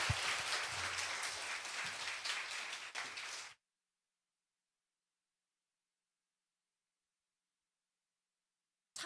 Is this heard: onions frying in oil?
no